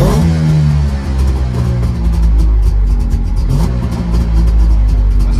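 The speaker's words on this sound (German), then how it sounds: "Während einer kleinen Probefahrt durch Dresden zeigt Sepp Melkus, was in dem Auto steckt." A Melkus sports car engine revs hard nearby on a drive through Dresden, a loud throaty roar rising and falling through gear changes, with no voices.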